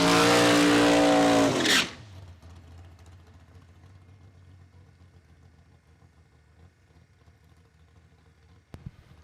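An altered drag race car at a bracket racing test-and-tune day makes a pass, its loud engine roar close at first, then cutting off sharply and fading to a distant low rumble, with a brief sharp sound near the end.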